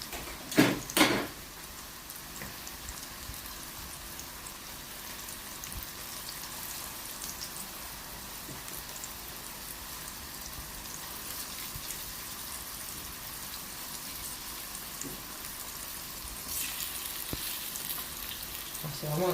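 Beetroot, endive, carrot and red onion fry in ghee on high heat, giving a faint, even crackling sizzle throughout, with a few louder clatters of utensils near the start and a brief rise toward the end.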